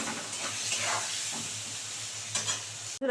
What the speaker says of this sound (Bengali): হলুদ দিয়ে আবার আলুটা ভালো করে সুন্দর করে ভেজে নিই